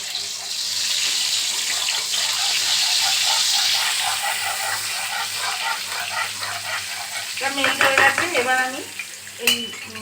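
Masala paste frying in oil with a little butter for chicken malai curry, a steady close sizzle, then clinks and stirring toward the end.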